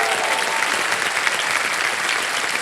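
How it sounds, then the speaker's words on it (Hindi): A studio audience on the Hindi quiz show Kaun Banega Crorepati bursts into thick, continuous applause, a loud wash of many hands with no gaps or single claps standing out, and no one speaks over it. "तालियां बज जाएं इनके लिए।"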